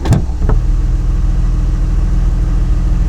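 A 2006 Jeep TJ Rubicon engine runs in neutral with a steady, loud low hum, opening with a couple of sharp knocks before settling into an even drone.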